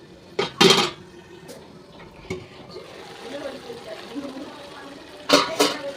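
A lid settles onto a pot of bottle gourd curry with sharp metallic clanks, one burst near the start and another near the end, plus quieter clinks and faint kitchen noise in between.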